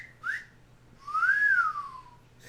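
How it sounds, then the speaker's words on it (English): A person whistles in an unusual way, a brief high chirp followed by a longer, louder tone that rises and then falls, clear and close in a quiet room. "I also can whistle in a unique way."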